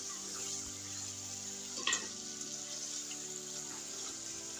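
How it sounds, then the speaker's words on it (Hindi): Chicken pieces frying in a pan over a high flame, a steady hissing sizzle with a brief clatter of stirring partway through and no talking. "चिकन को हम हाई फ्लेम पे कुक करेंगे।"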